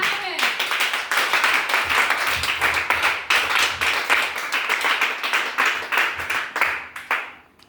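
A church congregation breaks into dense, sustained applause for Jesus Christ, many hands clapping loudly and steadily before tapering off at the end.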